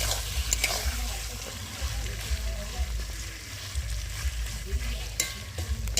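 Chicken coated in spices fries in a pan with a steady sizzle, while a spoon stirs and scrapes in repeated strokes close by.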